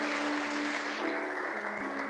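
A church congregation applauds in a sustained, even wash of clapping that holds steady for about two seconds, with no clear voices over it.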